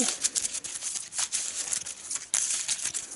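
Rapid papery riffling and slapping of a sleeved Arkham Horror card deck being shuffled, a dense flurry of crisp clicks and swishes lasting a few seconds.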